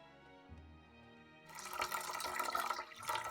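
Warm water is poured into a container for pizza dough, a steady, fairly loud splashing rush that starts about halfway through and runs to the end, with faint tonal background music underneath and no talking.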